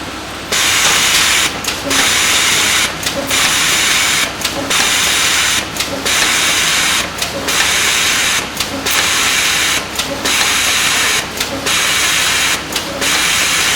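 A Pratt sheet feeder for boxes runs with a steady loud hissing, air-like roar, cut by brief regular drops roughly every second as sheets cycle through, with a faint mechanical rhythm underneath and no talk.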